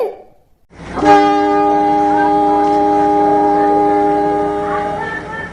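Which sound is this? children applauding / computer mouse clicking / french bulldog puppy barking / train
train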